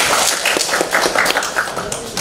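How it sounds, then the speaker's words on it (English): Audience applause for Al-Fatah Razak, a student from the English department, after his question at a consulate gathering; a dense, steady patter of many hands clapping fills the room for a couple of seconds. "Give a round of applause to Razak, please."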